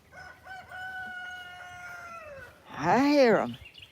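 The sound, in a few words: roosters crowing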